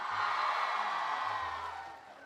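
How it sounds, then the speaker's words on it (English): Audience in a high school motivational talk breaks into applause and cheering, a broad sustained wash of crowd noise with whoops that fades slightly toward the end. "Let's have a round of applause for everyone."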